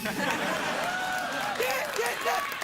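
Studio audience applause and cheering at a late-night talk show, a steady wash of clapping with voices talking over it throughout.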